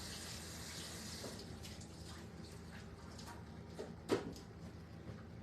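Tap water runs steadily while hands are washed at a sink during cooking, a faint continuous wash with a brief louder splash or clatter near the end.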